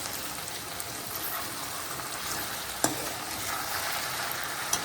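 Vegetables such as brinjal and okra sizzle steadily in hot oil in a home kitchen after garlic chutney goes in, a dense continuous frying hiss with a couple of faint clicks and no talk.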